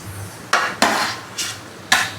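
Tomatoes and potatoes going into a cooking pot, heard as four sharp metallic clinks and clatters of a utensil against the pot in quick succession, with no talk.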